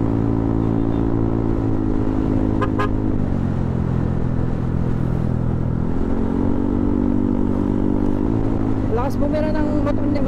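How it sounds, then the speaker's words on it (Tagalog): A motorcycle engine drones loudly and steadily on a ride in Iba, Zambales, its pitch stepping up and down as it revs through gears, with faint voices over it. "Lakas bumira ng motor ni Mike."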